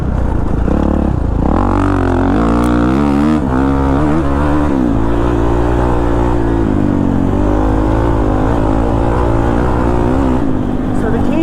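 Kawasaki KX450 dirt bike ridden on the throttle around corners, loud close engine bursts rising and falling in pitch, then a sustained high-revving drone.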